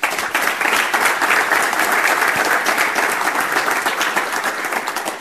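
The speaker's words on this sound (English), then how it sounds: "please give a round of applause for Roland" An audience at a technology colloquium applauds a speaker, a dense, loud burst of clapping from many hands that carries steadily across the whole stretch and tapers slightly at the end.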